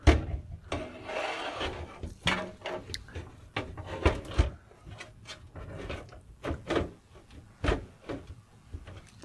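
A power supply unit slides into a PC case with soft scraping and rubbing, punctuated by several small knocks and clicks of metal and plastic, close and fairly quiet.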